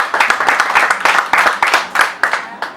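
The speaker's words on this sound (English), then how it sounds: "Let's give him a round of applause." Applause for a gentleman at a debate handover event, a crowd clapping with a steady pattering rhythm and periodic louder surges across the whole stretch, close and fairly loud.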